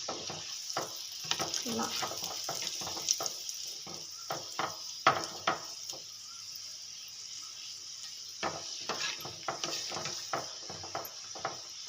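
Onion and egg filling for egg puffs cooking in a pan on a stove over high flame, a steady soft sizzle with scattered clicks and stirring taps, a brief word spoken.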